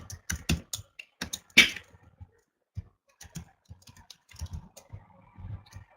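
Bursts of HTML code being typed on a computer keyboard: quick clusters of clicky keystrokes with short pauses between, close and fairly quiet, no talking.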